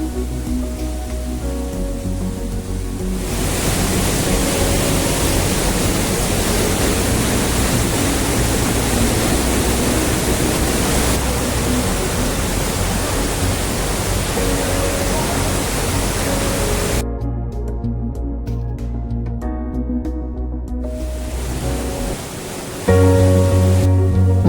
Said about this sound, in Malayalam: ഇതാണ് വലിയ വെള്ളച്ചാട്ടം